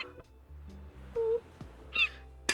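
A cartoonish bird squeaks when poked in the cozy video game Tiny Bookshop, giving a short tonal peep followed by two quick sharper chirps over soft background music, no talk.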